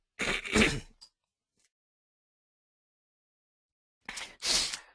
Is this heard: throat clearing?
yes